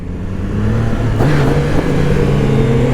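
Triumph Trident 660 motorcycle with traction control engaged pulls away under throttle, its mid-pitched engine note rising steadily and loud and close, with no voices over it.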